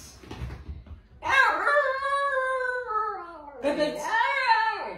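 A dog lets out a drawn-out whimpering howl close by, rising and bending in pitch, then pauses and gives a second wavering howl, with a faint rustle before it begins.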